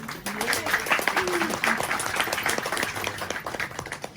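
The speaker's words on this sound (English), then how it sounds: "Can we have a huge round of applause for him?" Applause for the main character at a film release event, a lively burst of clapping from a crowd with voices and cheers mixed through it, sustained at moderate loudness.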